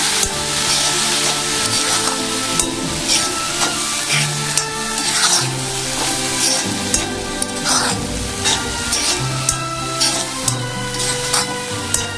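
Cooked prawns and long beans are being stirred into sautéed onions in a hot pan. A loud, close sizzle carries on throughout, with regular scraping and clacking stir strokes and no talking.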